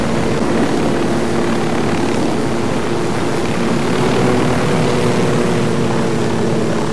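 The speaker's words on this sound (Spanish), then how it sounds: "volvemos a buscar el helicóptero" A helicopter in the Ghost Recon Wildlands video game drones loudly and steadily throughout, with a constant rotor and engine hum and no break in the sound.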